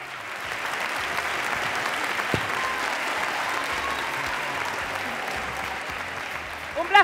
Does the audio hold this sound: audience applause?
yes